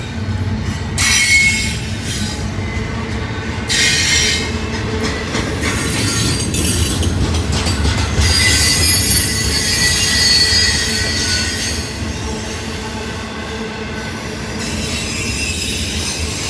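A southbound freight train rolls past nearby, its wheels squealing in loud, high drawn-out screeches over a continuous low rumble and rhythmic rail clatter for the whole stretch.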